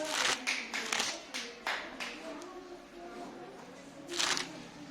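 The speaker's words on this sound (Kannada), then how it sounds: "ಹರ್ಷವರ್ಧನ ಚಪ್ಪಾಳೆ ಹೊಡ್ರಿ ಎಲ್ಲರೂ." Schoolchildren in a classroom clap for a classmate, Harshavardhan, with a few scattered bursts of clapping that fade and then swell again near the end, while children's voices and chatter carry on underneath.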